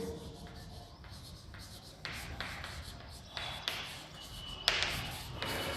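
Marker or chalk strokes on a lecture board, a steady run of short scratchy writing sounds with occasional taps, close and alone without talk.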